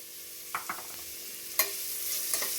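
Onions frying in a pan for Kerala-style chicken curry, a soft steady sizzle under several light clinks and scrapes of a spatula, close but fairly quiet.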